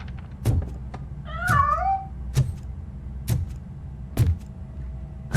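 A single cat meow in the RoboCop: Rogue City video game, a short rising-and-falling call standing clear amid sparse game ambience and a few dull thuds.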